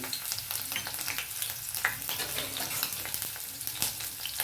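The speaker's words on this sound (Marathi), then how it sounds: "तेल तापलंय आपलं तर त्याच्यामध्ये आता आपण मिरची टाकून घ्यायची हिरवी" Green chillies fry in hot oil with a close, crackling sizzle and spattering pops, continuous and busy, with occasional stirring and no talking.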